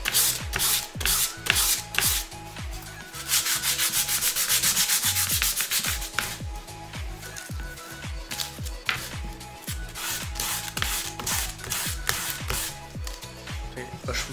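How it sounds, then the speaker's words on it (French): Sandpaper rubbing the top of a wooden model ship part for a Belem kit, steady back-and-forth strokes in a quick regular rhythm, close and loud, with no talk over it. "Là je ponce un peu le dessus"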